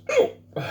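One abrupt, close hiccup after chugging Da Bomb hot sauce, a short voiced gulp over a faint room hum, with the start of another breath right after.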